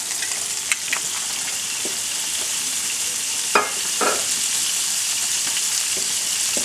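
Olive oil dribbled over tuna in a hot pan, giving a steady, even sizzle throughout with a few faint clinks and scrapes.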